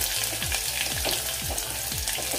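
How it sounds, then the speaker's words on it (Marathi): Garlic frying in hot oil for a dal bati tempering, a steady close sizzle with periodic scraping stirs of a spoon against the pan, no voices. "लसूण इथे खरपूस असा भाजून झाला पाहिजे, तेलामध्ये परतून झाला पाहिजे।"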